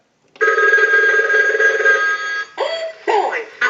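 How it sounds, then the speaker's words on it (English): A Mickey Mouse animated telephone under repair gives a loud electric bell ring for about two seconds, then a cartoon-style voice speaks in short bursts after it. "we can go ahead and use the analyzer and send a ring cycle like you were getting a call"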